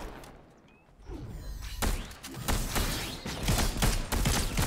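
Gunfire in the video game Fortnite comes in rapid, uneven bursts of loud close shots after a quieter opening second, with the cracks piling up densely toward the end.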